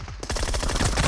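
Rapid automatic gunfire in the mobile shooter PUBG Mobile, a dense burst of close, loud shots cracking in quick succession with no pause.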